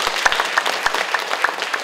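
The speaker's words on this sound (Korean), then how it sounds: "두 분께도 큰 박수 좀 부탁드립니다" Applause at a Korean National Assembly forum on the Altteureu and Songaksan peace park, a short burst of scattered individual claps from a modest audience.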